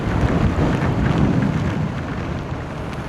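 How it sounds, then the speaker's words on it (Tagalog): Strong wind from an approaching typhoon blows at the Abacan River, a continuous rough roar buffeting the microphone, with a low rumble and no talking. "Lakas pa rin ng hangin."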